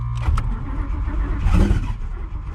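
Twin turbo Ford Coyote engine with a Turbo 400 transmission, cold starting on E85 fuel at 40 degrees, cranking then catching into a rough, uneven idle close by.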